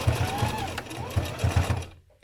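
Sewing machine lock stitching leather sling saddle material at the edge, running in short repeated bursts of stitching with brief pauses between, close and clear, then stopping.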